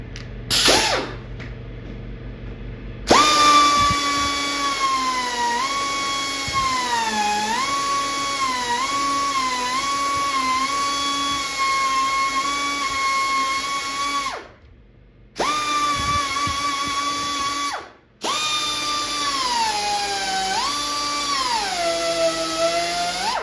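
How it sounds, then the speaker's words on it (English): A cutoff wheel cutting slots into an arcade cabinet side panel, a loud, high whine with shifting pitch that runs steadily, dips and drops out twice briefly, then resumes. "Maybe we'll use a cutoff wheel and make some slots into it."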